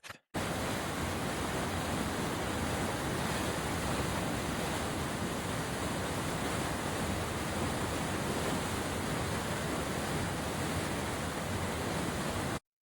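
Water rushes through the locks on the Delaware Raritan Canal in a steady, dense roar that stays even and unbroken throughout, heard alone with no voices.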